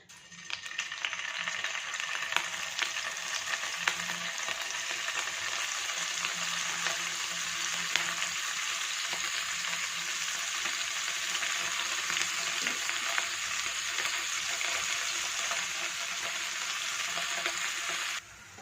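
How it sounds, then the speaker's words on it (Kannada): Paneer cubes fry in hot oil in a pan, giving a loud, continuous sizzle that holds steady for the whole stretch before cutting off at the end. "ಎಣ್ಣೆ ಸ್ವಲ್ಪ ಬಿಸಿಯಾಗಿದೆ ಈಗ ಇದಕ್ಕೆ ಪನ್ನೀರ್ ಕ್ಯೂಬ್ಸ್ನ ಹಾಕ್ಕೊಳ್ತಾ ಇದ್ದೀನಿ"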